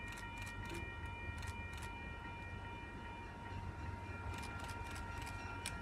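A train rolling into a station, its horn-like steady tones held over a low rumble of wheels, with a few brief clicks and rattles, moderately close and unbroken throughout.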